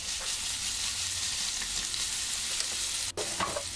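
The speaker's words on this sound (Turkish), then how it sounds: "Kızdıktan sonra hemen soğanları içerisine ilave ediyorum. Şöyle bir karıştırdıktan sonra" Onions frying in hot olive oil in a pan, stirred as they cook: a steady, close hiss of sizzling runs throughout, with brief scraping and clinking from the stirring near the end.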